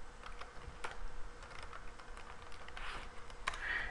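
Typing on a computer keyboard, a quiet run of soft, uneven key clicks at close range with a slight room hiss behind it.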